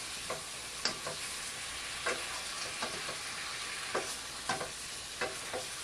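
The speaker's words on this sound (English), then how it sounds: "Let's stir this meat here a little bit." Beef frying in a pan hisses with a steady sizzle while a wooden spoon stirs it, giving soft scraping clicks at an uneven rhythm close by.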